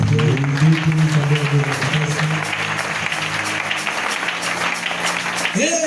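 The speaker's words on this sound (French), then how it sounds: "Est-ce qu'on peut applaudir très fort?" Loud, sustained applause from a church congregation fills the clip, a dense wash of clapping with a faint musical tone underneath at the start.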